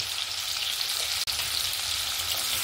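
Potatoes seasoned with salt and turmeric fry in hot oil, giving a dense, continuous hiss of sizzling that stays loud and close, broken only by one brief dropout.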